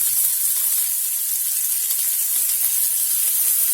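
Chopped onion sautés in hot oil with mustard seeds and dal for rava idli, producing a steady, bright, crackling sizzle that runs unbroken and close.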